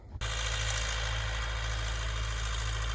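A T-40AM tractor engine idles steadily and loudly during field cultivation after a brief quiet start, with a constant low throbbing rumble and no voices.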